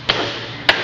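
Two sharp metallic hammer strikes on a U-joint cap of an MG car ring out about half a second apart, close and distinct.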